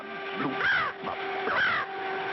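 A large cartoon bird caws twice in a classic Clutch Cargo animation, two harsh, raspy calls about a second apart, close and clear against a faint steady background hum.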